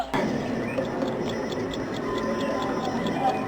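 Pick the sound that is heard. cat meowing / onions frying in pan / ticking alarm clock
ticking alarm clock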